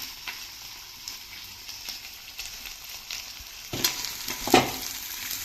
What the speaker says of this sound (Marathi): कांदा थोडा परतवून घेऊया।